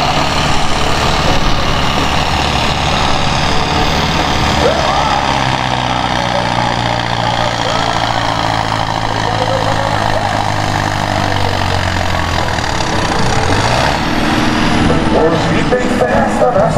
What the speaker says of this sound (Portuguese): Esse trator tem o motor MWM turbo diesel, tem 105 cavalos de potência